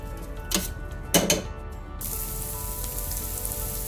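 Spicy pork and beef meatball curry cooks down in a pan, a soft steady sizzle after a couple of sharp clinks from utensils against the pan.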